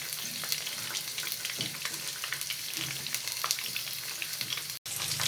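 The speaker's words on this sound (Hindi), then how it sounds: "मछली को फ्राई होते हुए 2 से 3 मिनट हो चुके हैं" Fish frying in oil in a pan on a medium flame, giving a steady, close crackling sizzle with scattered pops that runs throughout with no talk.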